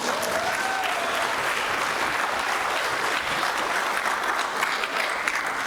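Dense, steady applause from a seated audience at a public finance symposium fills the room without a break, loud and evenly sustained from start to finish.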